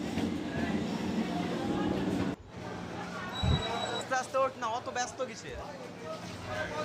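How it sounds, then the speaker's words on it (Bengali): A train pulling into a station platform, a loud rumbling roar for the first couple of seconds that cuts off abruptly, followed by clattering, a brief high whine and people talking nearby. "তো ট্রেন চলে আসলো"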